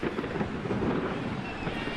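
Thunder rumbling after a lightning flash during an outdoor night baseball game, a loud, continuous low roll mixed with wind and rain noise.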